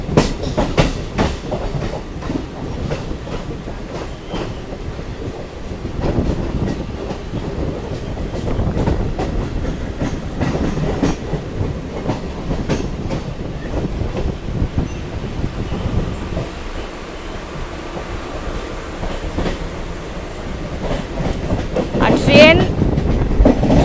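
Kharagpur to Purulia MEMU train running steadily, with a continuous rumble and repeated clickety-clack of wheels over rail joints, plus some wind noise throughout and a louder burst near the end.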